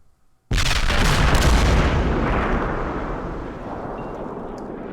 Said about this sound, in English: there's going to be a long barrage here, and you'll hear it coming from off the map, and it'll run for several rounds of fire from artillery